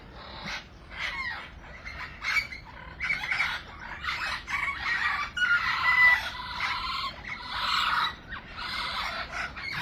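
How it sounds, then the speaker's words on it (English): Loud, dense aviary chorus dominated by a calling peacock, with overlapping squawks and shrill cries from budgies and parrots rising and falling steadily throughout, close and continuous with no talking. "Now the peacock's at it."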